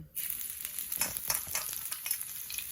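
Garlic fries in mustard oil in a wok, starting with a sudden loud sizzle that holds as a steady close hiss with occasional louder spits and stirring scrapes.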